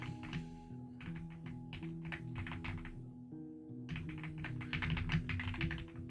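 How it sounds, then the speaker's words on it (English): Steady clattering of computer keys in quick bursts, a short pause midway, then faster typing, close and fairly loud. "Sorry, you can hear me typing."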